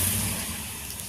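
2013 Ford Raptor SVT idling after a remote start, a steady low engine rumble with a faint high whine, continuous and moderately loud from nearby.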